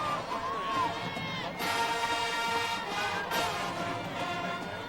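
Large stadium crowd at a 1994 high school football game between Kahuku and St. Louis at Aloha Stadium, a dense steady roar with swelling cheers and shouts, while an announcer talks over it.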